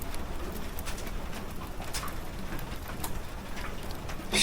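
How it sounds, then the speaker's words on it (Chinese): Light rain falls steadily on an armoured vehicle, heard from inside as dense patter with scattered sharper drops, continuous and even throughout. "现在已经变成小雨了。"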